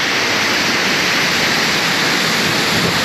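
A rainforest waterfall roars loud and close, a dense, constant rush of falling water that fills the whole stretch with no break and no voices.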